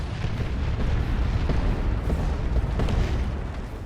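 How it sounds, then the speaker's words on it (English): Cyclone missile launcher fire in the strategy game Dawn of War 2 during a Space Marines versus Imperial Guard battle, a dense rumbling run of overlapping booms and blasts, loud and sustained. "Decent cyclone missile launcher shots."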